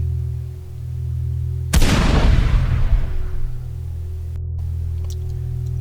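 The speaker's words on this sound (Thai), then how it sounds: "เสียงปืนก็ดังขึ้นมาหนึ่งนัด" A single sharp gunshot cracks out against a low steady hum, its echo decaying over about a second before the hum continues alone.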